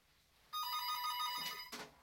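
A telephone rings indoors with one bright electronic trill lasting over a second, then a short second burst cut off, clear and close against a quiet room.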